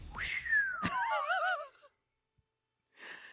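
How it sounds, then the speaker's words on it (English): A cartoonish penny whistle slide from Dead Rising 2 plays as a character slips on blood: a gliding tone that bends down and wobbles, near and fairly loud, after a sharp hit, then silence and a faint later burst. "You even get the penny whistle."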